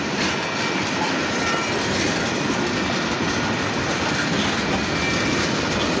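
A long freight train of empty tank cars rolls steadily past close by, a continuous loud rumble and clatter of wheels on rail with no break, no voices.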